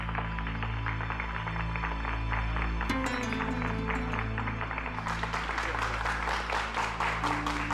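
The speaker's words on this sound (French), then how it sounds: "Monsieur Rogelio Rivas, pour qui je demande un tonnerre d'applaudissements." Audience applause breaks out in a dubbed French television drama episode, with dense clapping over steady background music that grows louder and fuller partway through.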